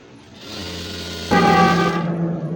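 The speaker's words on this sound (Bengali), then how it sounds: "আমি আরও একটি কাপড়ে সেলাই করে আপনাদের দেখাচ্ছি" A sewing machine stitches fabric, its motor whirring up and then jumping into a louder, steady mechanical buzz of the needle running for about a second before easing slightly, with no voice over it.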